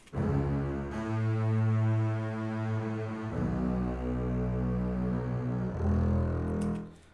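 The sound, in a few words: sustained viola notes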